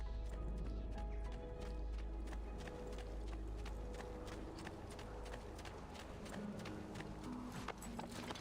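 Horse hooves in Assassin's Creed 2 clip-clop in a quick, steady rhythm over a continuous low ambient drone, with a few faint tonal game sounds mixed in.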